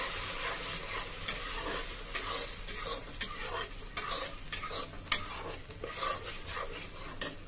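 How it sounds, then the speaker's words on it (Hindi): Tomato paste being stirred and fried in a pan for an aloo palak dish: a soft, continuous sizzle under repeated spoon scrapes and clicks against the pan, fairly quiet and close, with no speech. "अब हम इसको ऐसे ही पांच मिनट तक भूनते रहेंगे जब तक ये तेल छोड़ ना दे"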